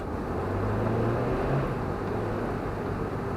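A car with winter tyres losing grip and sliding on slushy snow under light throttle near a rural junction, heard from inside as a steady, loud low engine and road rumble with wet tyre hiss throughout.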